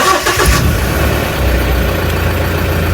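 A pickup truck engine cranks and catches, then settles into a loud, steady low rumble close by, with no talk.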